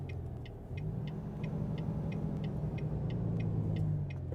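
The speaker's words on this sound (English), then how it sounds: "Turn our Jake brake on there." Truck in American Truck Simulator with its Jake brake switched on, a deep engine rumble swelling and holding steady after a moment while a light clicking ticks rhythmically above it, no talking.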